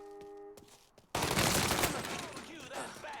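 Gunfire erupts in Mafia 3, a sudden burst of rapid shots and echoing fusillade that breaks in after a quieter stretch, loud and close, with a tonal game sound fading out beforehand.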